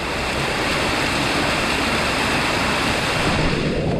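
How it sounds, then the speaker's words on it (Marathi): Water rushes steadily down the Harihar Fort trekking trail in a loud, unbroken roar, with the hiss of heavy rain blending into the flow. "या रस्त्यावर पाणी वाहत आहे, हे बघा शकता तुम्ही"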